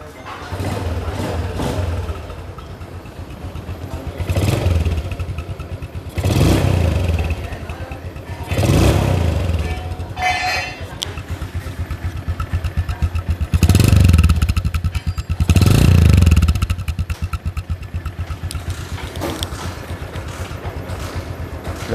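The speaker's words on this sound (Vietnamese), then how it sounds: "Và thấy tiếng máy rất chậm đúng không?" Yamaha Exciter 135 motorcycle engine running at a slow idle, a steady low rumble with several louder revving bursts rising and falling, close by with no talk.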